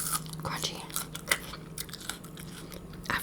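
Close, intimate crunching and chewing of a gluten-free Caesar salad with pineapple and avocado, irregular crisp bites and moist mastication sounds, with faint breathy vocal noise in the background.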